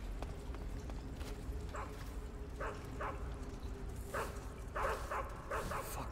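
A dog barking in the Metal Gear Solid 3 video game, a string of faint repeated barks and yips over a steady noisy game background.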